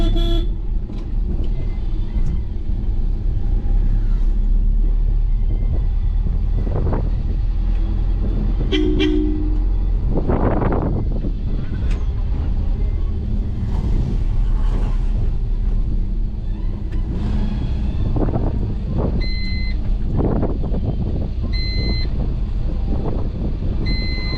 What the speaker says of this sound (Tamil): லைட்டாக ஆசிட் அழுத்தி வண்டி மூவ் ஆனதுக்கப்புறமா தேர்ட் கீரை மாற்றிக்கிறோம்